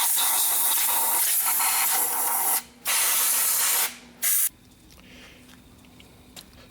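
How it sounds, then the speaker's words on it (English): Compressed air blasting debris out of a turbocharger intake, a loud continuous hiss that cuts off, then a second long blast and a short final burst, close up. "I'm going to blow this out and make sure there's nothing inside of it going to pass into the turbo and damage it."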